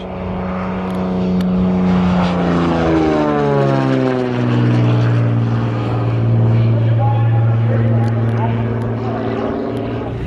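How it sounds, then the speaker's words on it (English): F-33C aerobatic Bonanza propeller airplane flying loops at the Oshkosh EAA AirVenture airshow, a loud close engine drone whose pitch sweeps down and rises again as it passes through the maneuvers. "We got the F-33C aerobatic Bonanza doing loops."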